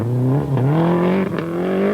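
Vauxhall Calibra rally car accelerating hard on the fast section of the Eurocircuit Valkenswaard, its engine note climbing steadily and loud, with a brief dip around a gear change before pulling on again.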